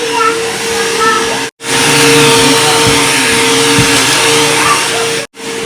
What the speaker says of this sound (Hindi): पहले वैक्यूम कर ले मैं फिर ना ये वाला बिछा के मैं आप लोगों के साथ शेयर करती हूँ